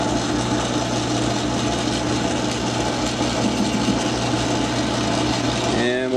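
A small lathe with a negative geometry toolholder runs a cut, giving a loud, steady broadband machining roar over a constant motor hum that stays level throughout and shifts in tone right at the end.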